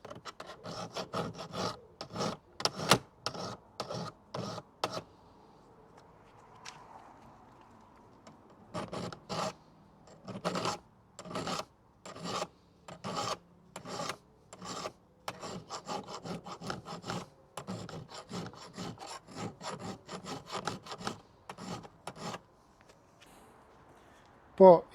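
Hand file rasping across hedge trimmer blades in bursts of quick, evenly spaced strokes, with short pauses between sets of passes; close and fairly loud, no talking.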